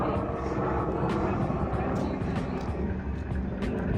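A Life Flight medical helicopter passes overhead near a lakeshore park in Sandusky, giving a loud, steady rotor and engine roar that fills the scene without letup.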